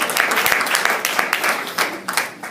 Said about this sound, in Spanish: ¿Cuánto un aplauso al Señor?